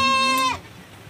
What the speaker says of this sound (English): Oh my God, guys, there's a very sick goat here.